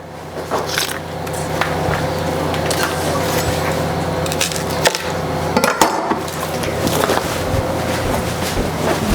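Fibrous outer leaves being peeled from a freshly harvested garden leek, a close series of dry tearing, creaking and crackling snaps at an irregular pace.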